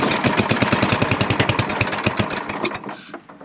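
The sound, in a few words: small carbureted engine sputtering, trying to start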